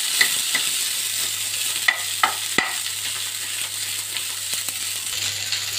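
Hand-mashed potatoes sizzle steadily in a hot pan while a spoon stirs them, with a few sharp clinks of the utensil against the metal and no talking.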